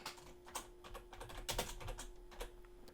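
Fingers tap a computer keyboard in a short, uneven run of light clicking keystrokes, close and quiet against a faint steady hum, with no speech.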